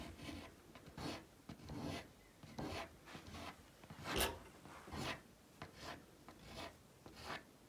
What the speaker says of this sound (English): Now with my fingernail, just scrape off a few bits here and there.